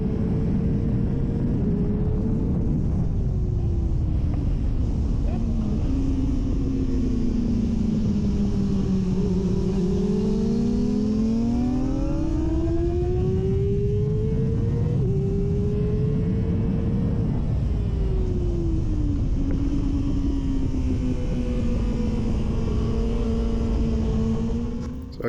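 Racing motorcycle engine screaming around the Donington track during an open class race, loud and continuous for the whole stretch, the pitch rising and falling through gear changes as the bike brakes into corners and drives out hard.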